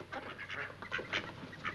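A large flock of ducks quacks in a busy, overlapping chorus of nasal calls at moderate distance, steady throughout with no talking.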